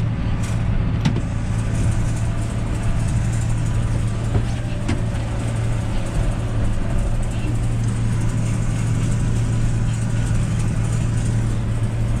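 Tractor engine held at PTO speed just under 1700 rpm in 540 economy while spreading fertiliser on silage ground, a loud, steady low drone with a constant hum and no let-up throughout.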